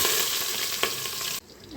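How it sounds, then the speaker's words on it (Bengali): Onions sizzle steadily in hot oil as they fry for pulao, a dense continuous crackle with a stirring scrape near the middle, cutting off abruptly near the end to a quieter hiss. "পেঁয়াজটাকে ভাজছি পোলাও করার জন্য।"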